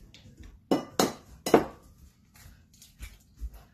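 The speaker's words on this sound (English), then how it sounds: "So we try and crack our eggs properly into the bowl." Eggs cracked against a bowl rim for protein French toast, giving three sharp clinks in quick succession near the mic, then quieter handling taps.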